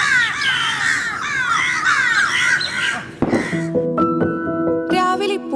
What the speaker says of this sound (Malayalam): തിങ്കളാഴ്ചയും വ്യാഴാഴ്ചയും ഒഴികെ മുരളി കാക്കകൾക്ക് പ്രഭാത ഭക്ഷണം നൽകാനെത്തും